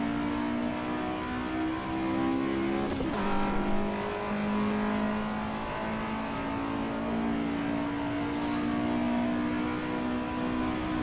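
A race car in Assetto Corsa EVO holds a steady, loud engine drone with a brief shift or blip near the middle, its harmonic tone staying high and constant with no talking.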